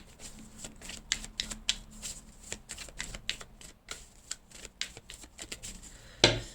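A tarot card deck being cut and shuffled by hand: a close series of crisp riffling snaps and soft card slaps at an uneven pace, ending in a sharper rustle, with no voices.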